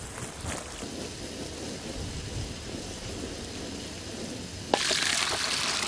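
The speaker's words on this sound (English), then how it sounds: "I'll water the peas and carrots" Water sprays steadily from a hose onto peas and carrots in a garden bed, a continuous hissing patter, with a sharp click and a brighter, stronger spray in the last second.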